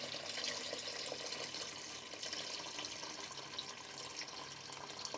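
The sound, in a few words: straining hot homemade turkey stock off the carcass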